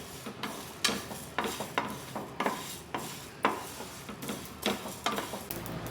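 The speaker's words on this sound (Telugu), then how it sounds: "మీడియం ఫ్లేమ్లో పెట్టుకొని ఫ్రై చేసుకోవాలండి" Chicken pickle ingredients fry in a pan on a medium flame while being stirred, with repeated scraping clinks of a spoon against the pan over a low sizzle, fairly quiet and close.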